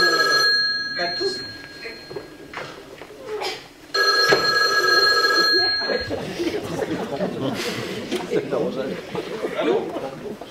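An old-style telephone bell rings in a short, shrill burst during a stage play, mixed with actors talking and audience chuckles in a theatre hall.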